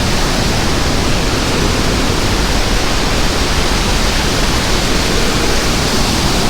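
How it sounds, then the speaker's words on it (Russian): Water rushes and churns below slippery stones at the Tsoi-Pede necropolis in Chechnya, a loud, unbroken hiss of turbulent flow that holds steady throughout, with no voices. "Там внизу вода бурлит."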